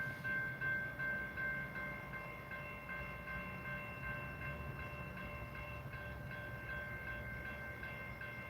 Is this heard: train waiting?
yes